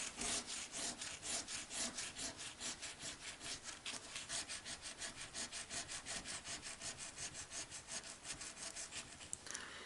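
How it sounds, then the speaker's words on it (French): Steady, rhythmic rasping strokes of a coin scratching a Dobble scratch-off lottery ticket, fast back-and-forth scraping repeated closely and evenly for about ten seconds, no voices. "Allez, on va gratter le dernier avant l'an-dernier"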